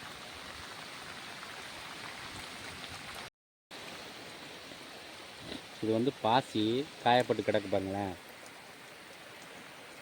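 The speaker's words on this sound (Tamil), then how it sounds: "நல்லா பேஞ்சிக்கிட்டு இருக்கு பாருங்கள் ஊத்துது" Heavy rain pours steadily outdoors on a hillside grove, a constant hissing wash that fills the whole stretch, with someone talking briefly over it near the end.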